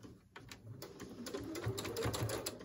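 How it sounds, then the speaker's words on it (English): A sewing machine back stitching a fabric face mask: a quick run of rapid mechanical clatter that starts after a brief pause, close and moderately quiet, no talking. "now I just want to back stitch it from the beginning"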